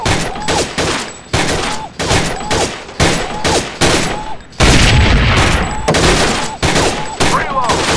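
AK47 and Desert Eagle gunfire in the VR shooting game Gun Club: loud, close shots fired in rapid repeated bursts with short pauses between volleys.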